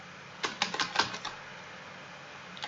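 A quick run of about a dozen keystrokes on a computer keyboard, crisp, close clicks bunched into one short burst, followed by near silence with one last tap.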